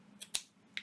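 Scissors snipping a paper flower for a junk journal, two or three quick, quiet crisp snips in a still room.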